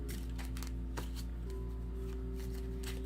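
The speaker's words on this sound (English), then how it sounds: "We shuffle again and then pull 7." Tarot cards being shuffled in quick riffling bursts, close up, with a steady low hum underneath and no talking.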